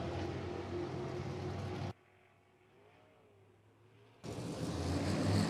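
USAC race car roaring past on the Du Quoin track, a loud sustained engine wash that suddenly drops to a faint distant drone for about two seconds, then surges back in strongly, with no talk over it.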